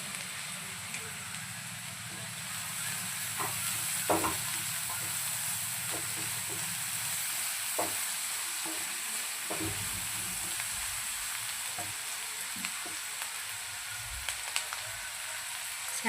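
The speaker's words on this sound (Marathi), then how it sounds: "गोल्डन फ्राय आपण करून घेऊया" Onions frying to golden brown in a pan for mutton keema, a steady soft sizzle with occasional crackles and spatula clicks, close by, with some quiet talking now and then.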